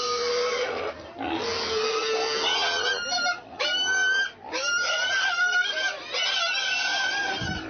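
Pigs in Bena, a traditional megalithic village, grunt and squeal in a steady, busy chorus of overlapping calls that carries on without a break, loud and close, with no talk over them.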